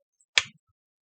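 A single crisp finger snap rings out once, close and isolated against near silence.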